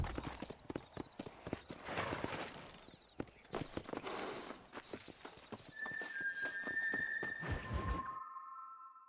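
Hooves clip-clop unevenly as a horse moves in Red Dead Redemption, close and fairly loud, with a whinny and a bright tonal chime near the end before falling silent.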